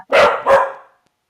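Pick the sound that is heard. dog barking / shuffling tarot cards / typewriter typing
dog barking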